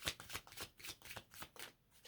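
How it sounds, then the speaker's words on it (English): A deck of cards being shuffled repeatedly for a tarot-style reading, a rapid series of crisp riffling bursts in quick rhythm, close and fairly quiet, with no voices. "Something told me with that last deck to do one last shuffle"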